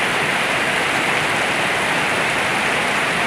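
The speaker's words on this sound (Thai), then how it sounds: "เอาเสียงฝนมาฝากกันเนาะค่ะ" Heavy rain pours steadily, a dense constant hiss of drops on surfaces, loud and close with no other sounds.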